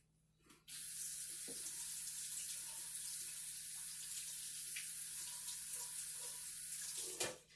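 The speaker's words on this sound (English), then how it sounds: "Let me wash my hands." Water runs steadily from a sink tap for about six seconds as hands are washed, starting abruptly after a brief quiet moment and shutting off at the end, with no talking.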